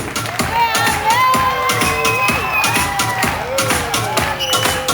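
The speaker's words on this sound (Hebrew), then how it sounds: "כן, גבירותיי ורבותיי, יכולים מחיאות הכפיים שלכם לאלון." Bar mitzvah crowd cheering and shouting with rhythmic clapping under a loud voice over music, lively and close, with overlapping whoops throughout.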